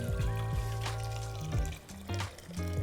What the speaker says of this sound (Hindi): गरम पानी आ गया तो सीधा गरम पानी डाल देते